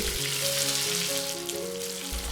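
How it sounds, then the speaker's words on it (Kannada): Onions frying in a pan with bay leaves, star anise, black cardamom, green chillies and curry leaves for tomato bath, a continuous hiss of sizzling oil, close and steady, while background music plays underneath. "ಇದನ್ನು ಈಗ ಈರುಳ್ಳಿ ಚೆನ್ನಾಗಿ ಫ್ರೈ ಆಗುವವರೆಗೂ ಹುರಿದುಕೊಳ್ಳಿ"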